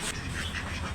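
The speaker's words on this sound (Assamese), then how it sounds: "আৰু হাঁহ দুটাও মাতিয়ে আছে মানুহক।" Two ducks at a meat shop quacking in short, close, overlapping calls, with a steady background rumble.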